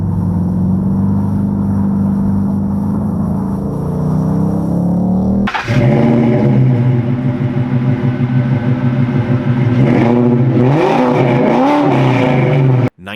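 A Ford Bullitt Mustang fastback's engine rumbles at a steady idle, then abruptly roars louder with rising and falling revs in repeated surges, close and loud with no talking.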